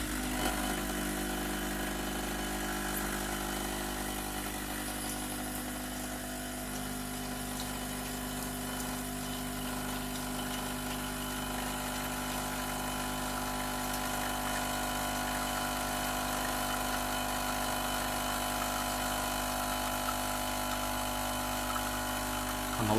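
A Delonghi Icona ECOM311 espresso and cappuccino maker, which has a leak, runs with a constant droning pump hum that holds steady at close range the whole time, with no voices.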